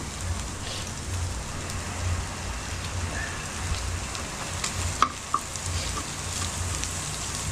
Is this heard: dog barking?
no